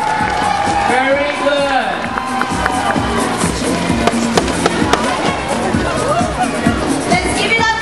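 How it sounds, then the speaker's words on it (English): An audience at a primary school show bangs plastic cheer sticks together, a loud, rapid clatter of sharp knocks mixed with crowd cheering, while a host's voice speaks over it. "Can we make some noise with our cheer sticks?"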